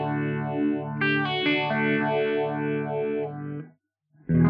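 Electric guitar through a phaser pedal at a middle setting, sustained chords swept by a slow, swirling whoosh, loud and close, with a short gap before playing resumes.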